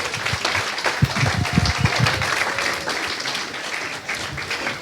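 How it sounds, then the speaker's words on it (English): A lecture audience gives a guest speaker a round of applause, loud, close clapping from many hands that swells early and then tapers into a lighter patter, with a few voices faintly mixed in. "Should we give him a polite round of applause"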